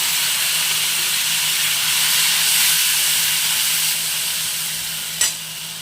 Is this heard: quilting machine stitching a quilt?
no